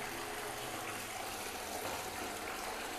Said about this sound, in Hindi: फ्लश करके दिखाता हूँ लीकेज में इसका।